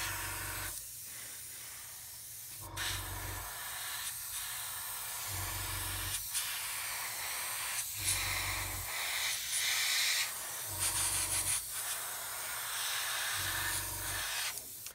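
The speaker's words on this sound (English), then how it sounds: "Another good thing to learn with your airbrush, if you are new to it, you've got a double action." An airbrush hisses in repeated short bursts with brief pauses as it sprays paint onto a 1/72 Das Werk U-9 U-boat model kit. The hiss is close and steady, and no one speaks.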